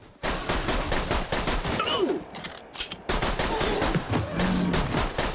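Gunfire from weapons in the VR shooter Borderlands 2, firing in dense rapid bursts that fill most of the stretch, broken by one brief lull before the shooting resumes at the same loud, close level.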